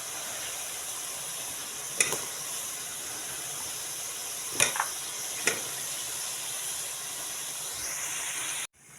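Cut cauliflower goes into a pan of hot, ready masala and fries with a soft, even sizzle and hiss, broken by a few sharp clatters of stirring, for a winter potato-cauliflower curry.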